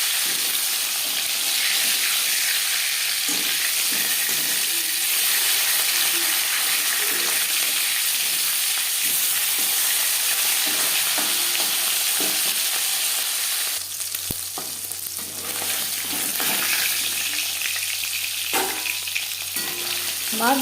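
Katla fish fries in oil after being turned to cook its other side, giving a continuous loud sizzle with scattered utensil taps and a low hum near the end.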